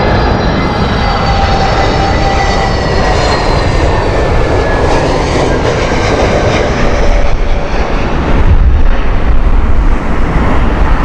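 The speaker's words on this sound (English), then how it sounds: "A321 Neo here." An Airbus A321neo airliner roars loudly and close at Heathrow Airport on a windy morning, a sustained broadband engine rumble with a whining tone that holds steady and swells slightly near the end.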